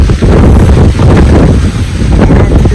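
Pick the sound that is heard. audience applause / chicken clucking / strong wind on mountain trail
strong wind on mountain trail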